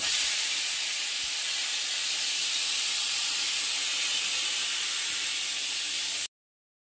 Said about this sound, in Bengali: শুধু মেথি ফোড়ন